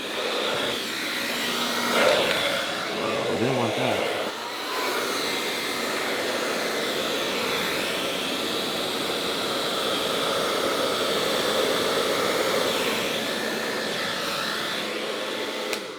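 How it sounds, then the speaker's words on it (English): A blow dryer on a low setting blows over alcohol ink artwork, giving a steady close whooshing roar that holds for the whole stretch, with a brief spoken remark near the start. "if I want to get a quicker aspect of it, I'll turn on the blow dryer."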